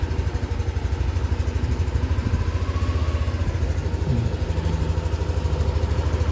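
A Yamaha Aerox S scooter engine runs steadily at idle during a check, a close, even low putter with a light mechanical clatter and no voices.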